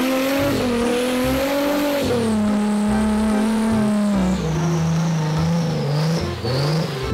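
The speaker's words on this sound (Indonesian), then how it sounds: "Di sini ada mobil off-road." A toy off-road car with a continuous, loud, whining revving tone that rises and falls in pitch, steady throughout without pause and heard alone.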